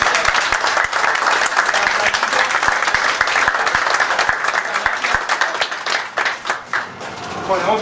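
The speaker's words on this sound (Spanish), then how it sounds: "fuerte el aplauso" A crowd at an expo stage show claps loudly and steadily after a card trick, with some sharp individual claps standing out, before the applause thins and fades near the end.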